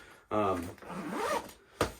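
A zipper on a pocket of an Evergoods CTB26 Phoenix V2 bag is pulled in one quick close, rasping stroke, with a short scrape just after.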